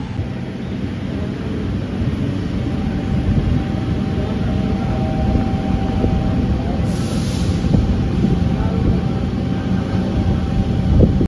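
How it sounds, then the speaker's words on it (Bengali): A train rumbles steadily with a continuous low roar and rhythmic clatter as it pulls away from Kharkopar station on the Uran line. No voices are heard. "আমাদের ট্রেন খারকোপার স্টেশন ছেড়ে দিল।"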